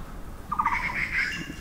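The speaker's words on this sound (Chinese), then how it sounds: "你看现在又不同的鸟在叫了" A single bird calls briefly in an Atayal mountain forest at Wulai, a faint warbling call rising over steady background hush.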